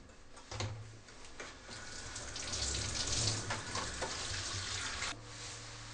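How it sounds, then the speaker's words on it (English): Surgical instruments rinsed in a sieve insert under running tap water during manual reprocessing, giving a steady close splashing hiss with rattling bursts throughout. "the instruments are rinsed in the sieve insert under running tap water."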